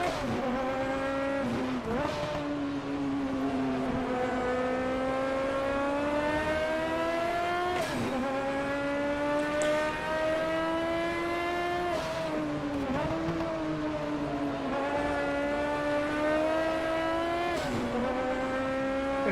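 A Group 5 race car from the GTG5 mod for Automobilista laps Brands Hatch, its loud engine climbing through each gear with sharp shifts and brief lifts, repeating over and over without any voices.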